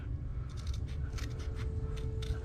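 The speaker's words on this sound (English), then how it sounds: "I like to use those type of scissors because they're smaller and easier to cut in a situation like this than bigger scissors" Small scissors snip plastic parts from a 1/24 scale Bugatti Chiron Sport model car kit, giving a run of quick, faint, close clicks over a steady low background hum.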